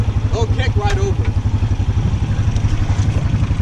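A Honda Foreman 500 ATV engine runs with a steady, throbbing low rumble beside water in snowy conditions, and people talk and shout over it.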